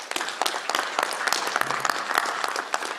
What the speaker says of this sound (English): I would like a round of applause for each and every one of them